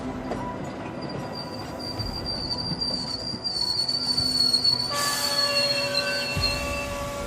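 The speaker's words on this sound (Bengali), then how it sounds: "সকালের ট্রেন এলো" A morning train pulls into a railway station near Kisumu in Africa, staged as an audio drama effect: a steady rolling rumble with high, shrill wheel squeals that grow louder and sharper toward the end.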